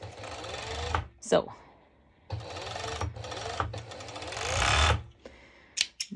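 Serger overlock sewing machine stitching layers of fabric for high-waist ruffled bottoms: several close, fast whirring runs of a few seconds each, separated by short pauses, with a brief spoken word in one gap.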